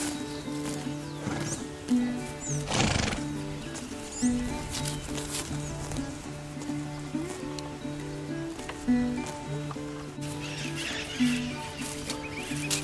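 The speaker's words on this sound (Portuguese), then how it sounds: "O cavalo, o garanhão, próximo à égua madrinha" Horses in a stable herd with a stallion near the lead mare, heard as scattered hoof patter and rustling over a low steady hum, with a few faint whinny-like calls; no talk.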